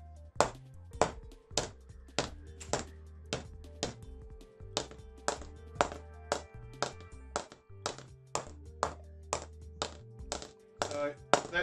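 Second-hand CA Plus 1500 cricket bat with delamination being tapped along its face: a steady series of sharp wooden knocks, about two per second, close and clear with some pitch changes between spots.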